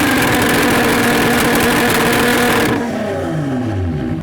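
A two-tone Nissan GT-R at a car show, its engine held at high revs, then dropping back to a rumbling idle; loud and close, with no talk.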